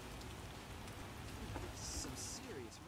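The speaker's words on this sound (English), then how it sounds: "Some serious rain." Heavy rain in The Witcher video game pours in a steady, hissing wash, dense and unbroken, with a few faint higher tones briefly rising over it.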